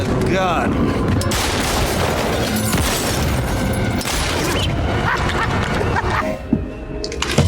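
Sustained gunfire from Batman: Arkham Origins as the Joker shoots around him, a dense loud barrage of shots running throughout with booming impacts and game clutter.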